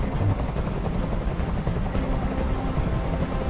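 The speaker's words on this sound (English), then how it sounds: "Tell that helicopter to get out of here!" A hovering helicopter in the video game Detroit: Become Human gives a steady, loud, close rotor drone that fills the whole stretch without a break.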